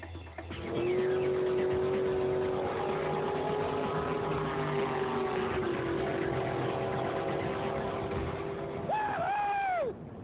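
A drag racing car's engine roars steadily, holding a high droning note as it accelerates down the strip, loud and close throughout before cutting off near the end.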